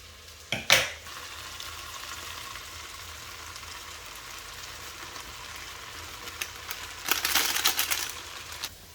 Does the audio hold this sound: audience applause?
no